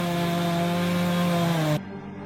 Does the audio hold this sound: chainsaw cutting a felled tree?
yes